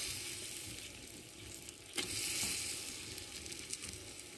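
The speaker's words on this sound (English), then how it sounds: "I'll let the meat fry" Salted mutton sizzles in a pot over an open fire with a close, steady frying hiss, broken by a couple of soft knocks partway through.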